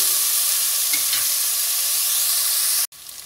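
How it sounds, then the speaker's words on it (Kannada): Fenugreek leaves sauté in hot oil with chopped carrot for a chickpea pulao, making a loud, close, steady sizzle that cuts off abruptly near the end. "ಈ ಮೆಂತ್ಯ ಸೊಪ್ಪು ಹಾಗೆ ಎಣ್ಣೆನಲ್ಲಿ ಬಾಡಿಸೋಣ ಇದನ್ನು."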